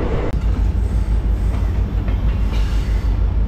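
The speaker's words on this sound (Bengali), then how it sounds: "এই হচ্ছে ফলকনামা এক্সপ্রেস।" The Falaknuma Express passenger train rolls past close by, a loud, steady rumble of wheels and carriages with rhythmic rail clatter that holds throughout.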